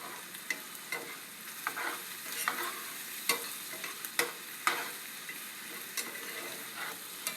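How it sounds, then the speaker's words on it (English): Gochujang and soy sauce being stirred in a hot frying pan, with a steady low sizzle and repeated sharp scrapes and taps of the utensil against the pan, fairly close and without talk. "Just want to make sure I get that gochujang really mixed in there."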